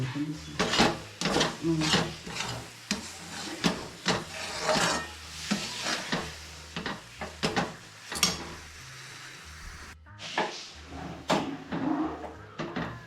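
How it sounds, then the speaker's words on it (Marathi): Thick peanut mhadya is worked in a pan with repeated heavy scraping and thudding strokes in an uneven rhythm, close up. Occasional voices talk alongside. "घट्ट होईपर्यंत हलवत राहायचं थोडंसं."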